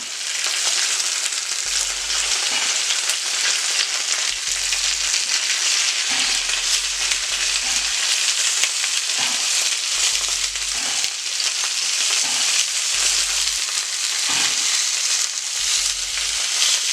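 Italian sausages sizzle loudly and steadily in a hot frying pan, a dense unbroken crackle that fills the whole stretch, with faint low thumps now and then and no voices.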